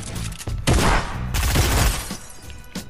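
Explosion of the Naruto kunai item in the video game Fortnite, with several loud, crunchy bursts close up, the biggest swelling around the middle, then fading into crackling debris.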